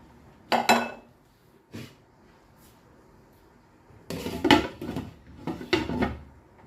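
A metal lid clanks onto a cooking pot of mung bean stew with squash in coconut milk, with a couple of sharp clinks early on and then a louder cluster of rattling pot and utensil knocks.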